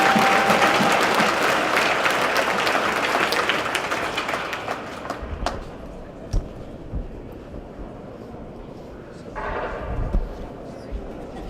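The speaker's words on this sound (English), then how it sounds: "Please give her a round of applause." An audience applauds at the 10th Norris Hoover Memorial hockey game, loud dense clapping at first that thins and fades over several seconds into scattered claps and crowd murmur.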